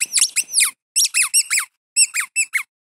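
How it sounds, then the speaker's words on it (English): A Nerf dog toy squeaks in sharp, loud bursts, grouped in three quick clusters of several squeaks each, with brief silences between them. "So it squeaks."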